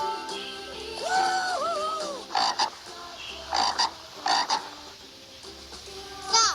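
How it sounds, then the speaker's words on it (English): A frog croaks in short, raspy bursts, four of them spread irregularly over several seconds. They are fairly close and stand out over a quiet background with a faint tonal sound, and no one speaks. "Is that the frog?"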